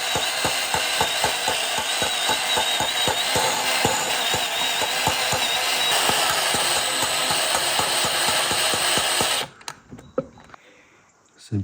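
Engine valve being lapped against its seat with fine grinding paste, a loud close rhythmic gritty scraping that repeats steadily, then stops abruptly into quiet with a few faint knocks.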